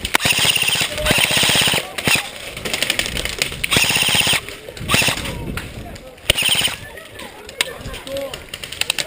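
Airsoft guns firing at an outdoor airsoft field, rapid bursts of sharp ticking shots in repeated volleys at close range, mixed with players shouting and talking.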